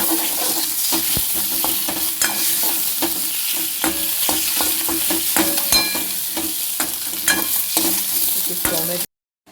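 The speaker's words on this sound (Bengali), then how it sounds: "পেঁয়াজ কুচনো আর রসুন কুচো কাঁচা লঙ্কা চেরা আদা বাটা গাওয়া হয়ে গেছে এবার ডিমগুলো দিয়ে দেবো" Chopped onion, garlic, slit green chilies and ginger paste sizzle loudly in a frying pan for eggs, a steady close crackle broken by stirring scrapes and clicks, cutting off abruptly at the end.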